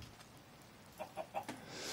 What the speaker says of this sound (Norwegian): Og så har vi en liten kylling som dukker opp